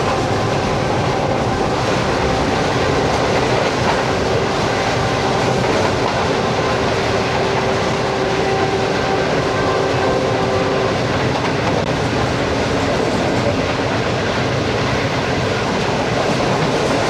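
Karakoram Express, a Pakistani express passenger train, rolling steadily with a continuous loud rumble and rhythmic clickety-clack of wheels on rails, heard from close by without talk.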